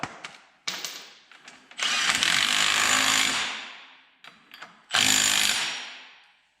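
A power impact tool runs in two loud whirring bursts, tightening the axle nut on a Honda 300 RZR build, with short clicks and handling noises between.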